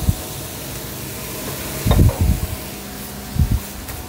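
A stuffed-vegetable filling fries lightly in a pan, a soft continuous sizzle with a few brief stirring scrapes and clatters.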